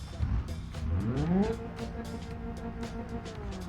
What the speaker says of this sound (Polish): Twój kowecik musi ci się podobać i musi mieć customowy wydech, taki jak ten mój